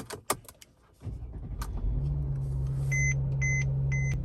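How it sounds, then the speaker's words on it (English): A Tesla Model Y chimes on startup: after a few clicks and a rising hum as the car powers on, three evenly spaced electronic beeps sound close by over a steady low drone. "Apparently it does this beeping thing every time you start."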